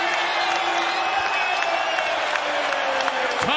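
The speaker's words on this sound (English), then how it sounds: "Oohs and ahs from the crowd." A basketball arena crowd roars and cheers steadily after a play, a loud sustained wash of voices with rising oohs, heard without a break through the whole stretch.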